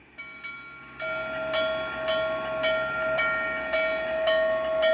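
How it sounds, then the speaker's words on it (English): Steady ringing bell from the sound system of a Scaletrains N&W J Class N-scale model steam locomotive, striking about every half second over a low running hum, clear and fairly loud for several seconds. "Here's the bell."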